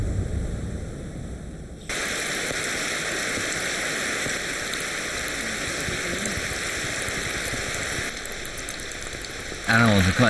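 Heavy rain pours down on a jungle camp in Guyana, a dense, steady hiss of drops that swells louder partway through and carries on without pause.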